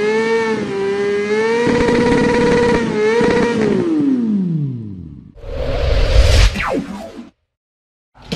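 A motorbike ride on a trip from Cao Lãnh, Đồng Tháp to Cà Mau, its engine humming steadily and then dropping in pitch as it slows, followed by a louder rushing burst before cutting to silence.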